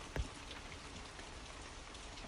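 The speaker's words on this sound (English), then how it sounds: "the sounds of rain keep playing, helping you fall into a soothing sleep" Steady rain patters in a dense, even hiss of drops, soft and continuous, with one brief louder tap near the start and no voices.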